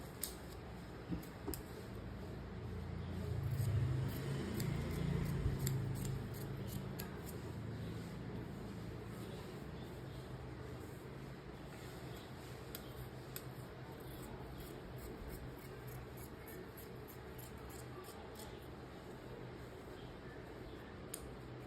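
Scissors cut through blouse fabric along a marked line, giving soft, steady snipping and crisp fabric rustle that stays close and fairly quiet, with no talk over it.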